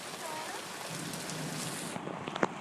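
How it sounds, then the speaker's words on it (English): Steady rain falls on surfaces outdoors as a continuous, even hiss, with a few brief voices and small knocks near the end. "Are you playing in the rain?"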